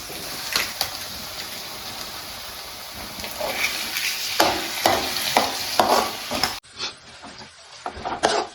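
Eggs frying in a pan with drumstick leaves, a steady sizzle with repeated stirring scrapes throughout, close and moderately loud, easing briefly near the end before resuming.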